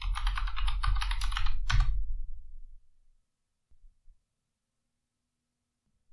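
Rapid keystrokes on a computer keyboard enter a root password on an openSUSE Leap Linux system, a brisk burst of clicks for about two seconds, then near silence with a couple of faint taps.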